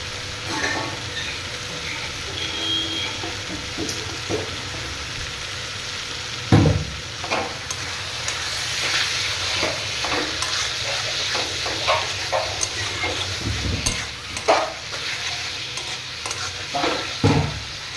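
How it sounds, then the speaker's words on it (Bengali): Taro leaf greens (kochu shak), boiled and then tossed with coriander leaves, are stirred in a hot pan, giving a steady sizzle and hiss with scattered scraping clatters from the spatula, close up and with no talking. "এটাকে ভালো করে নাড়াচাড়া করব"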